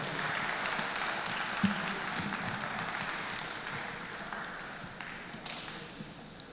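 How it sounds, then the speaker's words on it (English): A room of conference attendees at an opening ceremony applauds, a dense, steady patter of many hands that slowly fades over several seconds. "I think he deserves an appropriate round of applause."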